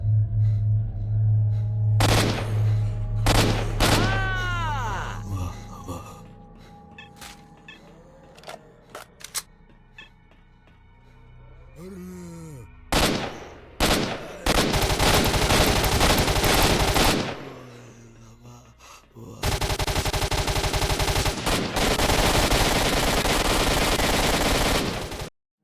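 Gunfire in STALKER Shadow of Chernobyl: scattered sharp single shots early on, then long, loud automatic bursts that cut off abruptly, with quiet gaps between.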